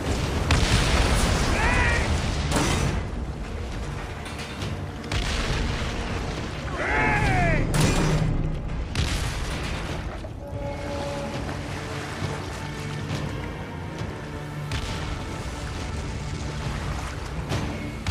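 Cannon fire booms and bursts around a galley at sea in Assassin's Creed Origins, heavy explosions repeating over rushing water, with a shouted voice breaking in at times.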